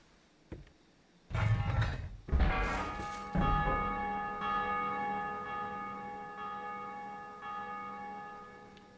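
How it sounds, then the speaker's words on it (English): In Dark Souls II: Scholar of the First Sin, a large bell is rung after some creaking mechanism sounds, with a few heavy strikes. Its loud metallic tone then hangs and slowly fades over several seconds. "Well, I guess I can ring the bell."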